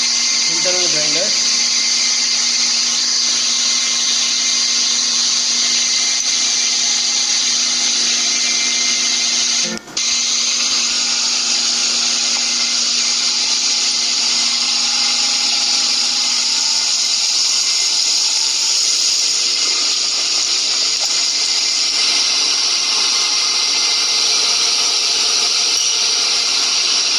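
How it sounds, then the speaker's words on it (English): A centerless internal grinding machine running, giving a loud, steady high-pitched whine that holds throughout, with a brief sharp click partway through and a voice talking underneath early on. "So this is the centerless internal grinder."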